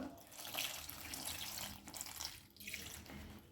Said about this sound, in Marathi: आता आपण ही स्वच्छ 2 पाण्याने धुवून घेणार आहोत